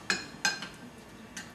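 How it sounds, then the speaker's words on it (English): A teaspoon clinks against a bowl while oatmeal is stirred with a quarter cup of added water, giving two sharp metallic taps close together, then a fainter third clink after a pause, close and quiet. "Stir it around."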